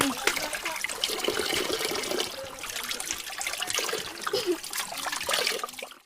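Water of a small stream where children went, a steady broadband trickling and splashing flow that runs close and fairly loud throughout, with no voices over it.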